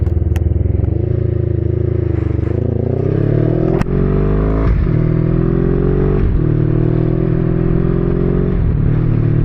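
A 1982 Honda Magna V45 motorcycle revs up close and loud, its engine note climbing through several gears with brief dips at each shift and a sharp clack partway through.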